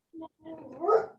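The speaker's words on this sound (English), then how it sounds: "My dog has opinions on the matter." A dog gives a short bark, then a longer whining, grumbling vocalization that rises and fades, close and fairly loud.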